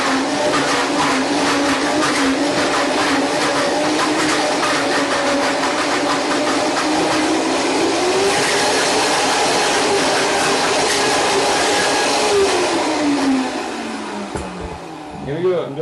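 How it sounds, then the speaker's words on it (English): A blender runs continuously, puréeing squash with ume, a loud whirring drone whose pitch shifts as the contents churn, then winds down near the end. "And then I'm going to bring that into the blender. And we're going to blend that."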